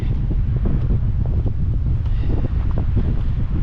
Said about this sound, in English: Not sure how much of that wind will come out on the camera there